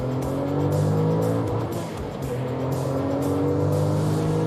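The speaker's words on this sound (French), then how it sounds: "On débraque, on accélère, on envoie la sauce." A Porsche Turbo, roughly 17 to 18 years old, accelerates hard on a short straight, its engine a loud, steady, close-up roar with a brief dip in the middle before pulling strongly again.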